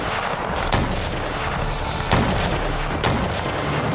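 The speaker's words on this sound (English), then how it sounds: "A rumor that Napoleon might withdraw was shattered by a bombardment of artillery shells at the city's" Artillery shells bombarding a city's walls during a Napoleonic-era siege, three heavy booms spaced about a second apart over a dense, continuous roar of battle noise.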